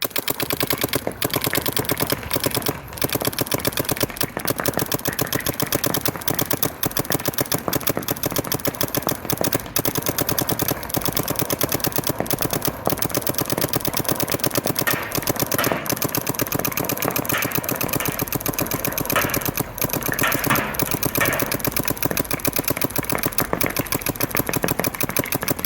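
A Planet Eclipse EMEK paintball marker fires in one continuous, very rapid burst of sharp pops. The shots stay loud and close the whole time, with no talk.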